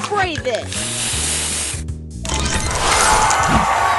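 In the Match Masters puzzle game, a spray booster fires off a loud, bright hissing spray burst. Chiming game effects and short tonal blips come before it, and a pause precedes the spray.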